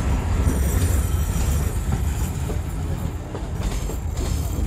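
A train rolls along a railway line at a crossing. It makes a loud, steady low rumble with faint clicking of the wheels, heard alone without talk.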